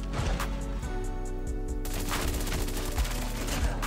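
MSMC submachine gun firing in Call of Duty Mobile, rapid automatic bursts of shots heard somewhat faint under continuous game sound, with no talk over it.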